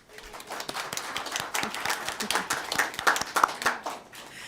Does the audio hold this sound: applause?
yes